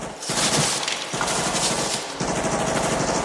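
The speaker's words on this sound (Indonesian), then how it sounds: "Tiba-tiba seorang prajurit yang panik menembakkan senjatanya." A panicking soldier fires his weapon in the Vietnam War, a loud, dense stream of automatic gunfire that rattles on with barely a break.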